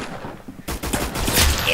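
Gunfire in the Roblox game Arsenal, a sharp burst of rapid shots that kicks in partway and continues loud and dense to the end.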